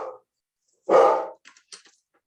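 A pet dog at home barks once loudly and close, followed by a few short, softer yips and a faint whimper, with no talk.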